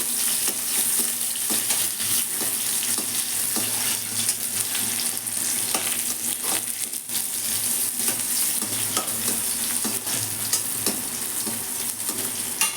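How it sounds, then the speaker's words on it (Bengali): Onion frying in oil in a pan for a taro-leaf and hilsa-head dish, a loud continuous sizzle with frequent scraping strokes of stirring, close and steady throughout. "এবার দিচ্ছি পেঁয়াজ একটু দিয়ে দিই"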